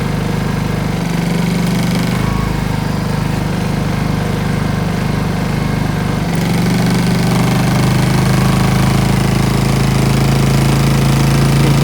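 A Honda EU2000i portable inverter generator runs in eco mode with a steady, loud mechanical drone and rattly hum, unchanging throughout.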